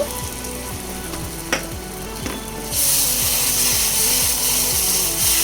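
Sour yogurt and cashew paste hit hot, oil-released masala for a bhetki fish curry, bursting into a loud, continuous hissing sizzle midway, after a stretch of steady rhythmic mechanical clicking in the background.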